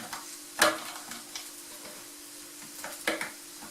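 Chopped food frying in a pan for Lindström meatballs, a steady low sizzle with a couple of louder scraping stirs, close and with no talk.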